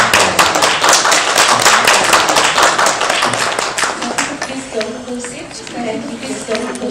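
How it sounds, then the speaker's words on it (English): Audience applause at a grape growers' event in Namibia, dense clapping loud for the first few seconds and then thinning out, with voices talking underneath as it fades. "Big round of applause."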